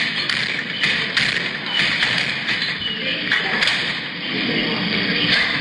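Repeated sharp knocks and bangs of a man pounding on an apartment door, irregular and loud, about ten hits spread across the span, with voices talking in the background.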